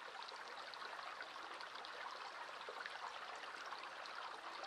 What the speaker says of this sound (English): I like the sound of the water.